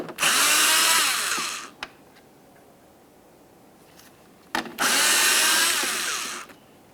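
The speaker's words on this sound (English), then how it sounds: "we have clear access to our two 7mm headed bolts. Remove the pair." A power tool drives out the two 7mm-head bolts holding the taillight on a 1998-2002 Lincoln Navigator, with the rear liftgate open. Two loud, steady whirring bursts are heard, separated by a quiet pause with a few small clicks.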